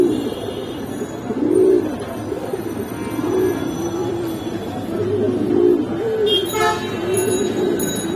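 Pigeons coo at Kaptanbazar pigeon market: repeated soft, throaty coos rise and fall close by over a low crowd murmur.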